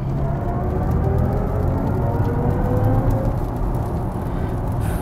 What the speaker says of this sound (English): What is less convincing, however, is BMW's iconic sounds option. This, as you know, is composed by Hans Zimmer